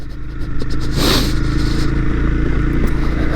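A 2015 Honda CB300F motorcycle in first gear climbs a steep, bumpy gravel hill, its engine droning steadily up close while loose stones crunch and clatter beneath the tires.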